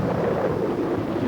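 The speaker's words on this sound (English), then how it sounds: "thunder rumbled through the clouds" Low thunder rumbles steadily through a storm with wind driving against a boat's sail, a broad continuous roll with no breaks or talk.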